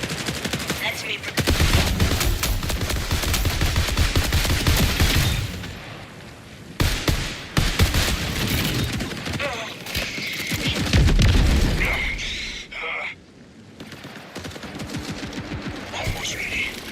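Weapon fire and grenade blasts in the shooter game Marathon: dense bursts of rapid shots and heavy booms, loud and close, broken by short lulls, with players talking over the fighting.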